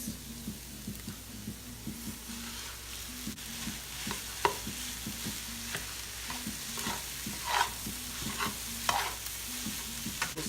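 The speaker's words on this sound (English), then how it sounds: "so now I'm gonna add in my rice." Rice for egg fried rice stirred and frying in a pan, with a steady low sizzle and repeated scraping strokes of the spatula, close and fairly quiet, with no talking.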